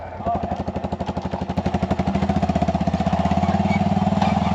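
A dirt bike engine chugs steadily on an Alaskan off-road trail as it nears a mud hole, its rapid, pulsing exhaust growing louder and denser over a few seconds with no talk over it.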